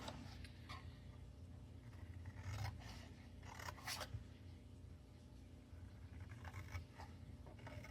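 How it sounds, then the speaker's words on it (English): Scissors cutting cardstock along score lines for a paper craft box, quiet snipping and scraping strokes in a few irregular bursts over a low steady hum. "So I'm going to cut up on all these extra score lines here."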